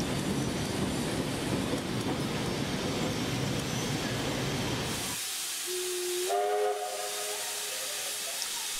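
Steam locomotive 3642 pulling into Sydney Central Station, a loud continuous hiss of steam and rumble of the train, then a steam whistle blows twice near the end.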